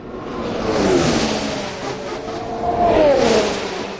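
Two Formula 1 cars, a Red Bull and a Ferrari, scream past one after another at Barcelona testing, each rising and falling in a swelling whoosh from a short distance, with no voices.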